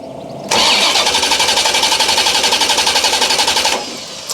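A Chevrolet Corvette C4 left neglected for 30 years cranks loud and close, the starter churning in a fast, even rhythm for about three seconds before stopping without catching.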